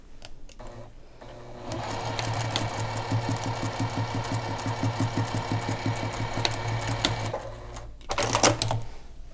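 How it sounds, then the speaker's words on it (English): A sewing machine stitches quilt binding in one steady run of rapid, even needle strokes from start to finish. The motor hums loud and close, with no one talking over it. "I'm going to sew 1/8 of an inch over here, away from that line"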